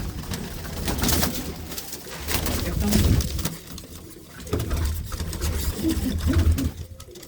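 Competition-winning racing pigeons in a fancier's loft at Bhinder Kalan, Punjab, coo in low, repeated throaty bursts, close and fairly loud, with rustling and faint background voices throughout.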